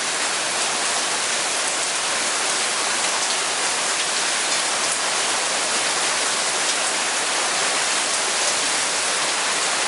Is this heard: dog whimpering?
no